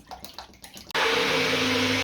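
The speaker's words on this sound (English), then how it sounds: "Just going to fill that up with water." Water gushes loudly and steadily from a tap into a blender jug after a few seconds of soft clattering and handling sounds, then stops abruptly.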